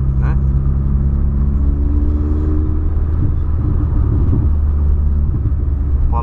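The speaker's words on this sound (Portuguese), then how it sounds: "O Paulão depois que colocou o escape ficou da hora, cara." A 2008 VW Polo fitted with an aftermarket exhaust, idling with a steady deep rumble close by, while someone talks over it throughout.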